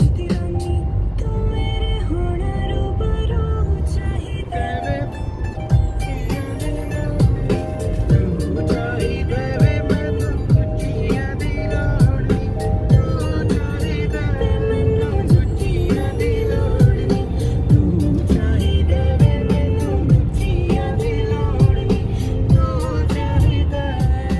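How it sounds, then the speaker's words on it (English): A Kia car cruising along a highway, with a loud steady rumble of engine, tyre and road noise inside the cabin, under a faint layer of music or chatter. "we are driving a Kia"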